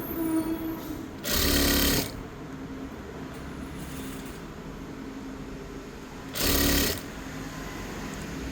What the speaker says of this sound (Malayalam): ഞെറിവിട്ടിട്ട് ഇത് നമ്മൾ സ്റ്റിച്ച് ചെയ്ത് കൊടുക്കുകയാണ് കേട്ടോ